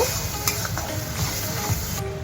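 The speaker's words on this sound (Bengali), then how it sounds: "1-2 মিনিটের মতন আমি টমেটোটা দিয়ে একটু কষিয়ে নেব।" Tomato paste sizzling steadily in a hot pan for a Bengali kasuri malai chicken curry, a continuous close frying hiss with a few faint stirring scrapes and no talk.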